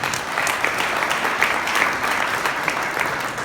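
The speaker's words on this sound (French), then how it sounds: "on peut les applaudir." Audience applause at a club event honouring young competitors, steady dense clapping from a crowd filling the whole stretch at a fairly loud, even level with no talk over it.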